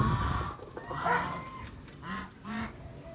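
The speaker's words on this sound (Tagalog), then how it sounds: "Ito yung mga pato." Ducks quack and honk in a noisy cluster nearby, several short nasal calls rising over a rough outdoor background.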